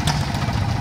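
A tractor engine at a rural show parade in Silesia runs with a steady, loud, close rumbling idle, its low throb continuous throughout.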